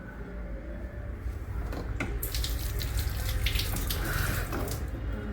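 Tap water runs steadily into a pot for making tea, a continuous splashing gush that swells partway through, with a few clinks of the vessel against the sink.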